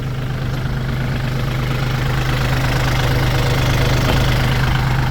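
A used 2015 Kubota L3608SP tractor's diesel engine runs at a steady idle close by, with a loud low rumble and a rhythmic knocking throb.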